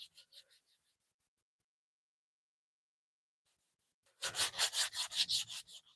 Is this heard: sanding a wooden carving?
yes